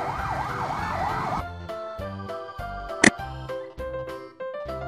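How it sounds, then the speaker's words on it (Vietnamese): A Thai police car siren gives a fast wavering wail, then breaks into a series of short loud electronic tones and blips with a sharp burst partway through. "Đây là xe cảnh sát của Vương quốc Thái Lan"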